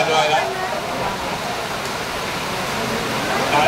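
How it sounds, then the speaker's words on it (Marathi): Heavy rain pours down during an outdoor felicitation gathering, a loud, steady, close hiss with no break. "पाऊस जोरात आलाय"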